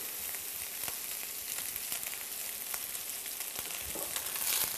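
Bacon sautéing in a pan gives a continuous dense crackle and sizzle with scattered pops, close and steady throughout.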